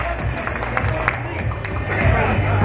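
Guests applaud the bride's family at a wedding reception, a broad wash of clapping and crowd noise that builds toward the end, with voices mixed in.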